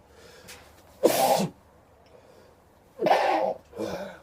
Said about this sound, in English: Gotta sneeze right quick.